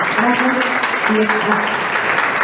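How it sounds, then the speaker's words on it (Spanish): An audience in Spanish claps at the close of a presentation, with continuous applause over the whole stretch and voices speaking under it. "le damos un fuerte aplauso"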